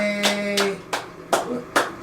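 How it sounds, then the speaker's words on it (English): Hands clapping in a cheerful home setting, five sharp claps in an uneven rhythm, close and clear over a faint background tone with no talking. "Come on, clap your hands."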